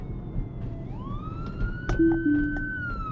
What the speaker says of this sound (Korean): 지금 소방차가 와요.